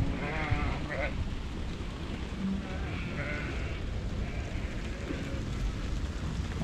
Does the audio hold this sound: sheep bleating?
yes